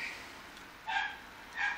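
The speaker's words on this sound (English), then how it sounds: "just barking all motherfucking night" A dog outside at night barking through a window, two distinct short barks about a second apart, faint and distant against a quiet background.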